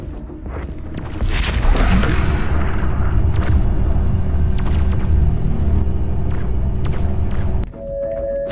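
A turret target is destroyed in the game Doom Eternal, a heavy booming explosion that swells into a long, loud rumble and debris roar before cutting off near the end.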